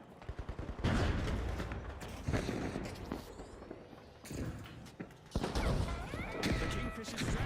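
Sniper and other gunfire in an online multiplayer shooter video game, loud bursts of shots and crashes coming in clusters over the match, with people talking over the gameplay.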